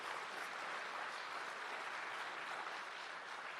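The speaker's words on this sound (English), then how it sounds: "you have to give him a round of applause for that" Sustained applause from the audience at Jamaica's national AI lab signing ceremony, honouring Dushyant; a dense, even wash of clapping runs steadily throughout at a moderate distance, with no voices over it.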